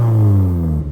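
A car fitted with an HKS exhaust revs at idle, a loud, close engine drone holding steady then easing off near the end.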